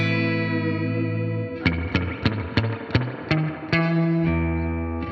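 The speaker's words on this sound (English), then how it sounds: "he's got a emulated spring reverb that sounds pretty drippy" An electric guitar through a Fender Tone Master amp with emulated spring reverb plays a sustained chord and then a series of sharp plucked notes, each trailing into a wet, splashy reverb tail.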